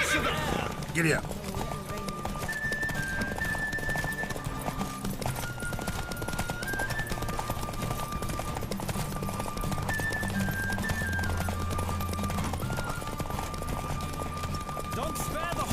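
A horse gallops at full speed in a race in The Witcher 3, a continuous drumming of hooves under game music, with a voice calling out over it.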